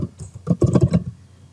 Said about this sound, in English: I'll just type